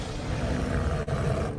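A tiger in the animated film Delhi Safari lets out a loud, rough roar lasting a second or so, with a brief break midway.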